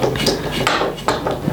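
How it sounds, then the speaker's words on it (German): A pump connector is screwed onto the inlet valve of a Shoei Gewehr 43 airsoft gas blowback rifle magazine, giving close, sharp metallic clicks and scrapes, with a few distinct knocks spread across a short moment. "das schraubt ihr hier einfach an das Einlassventil ran"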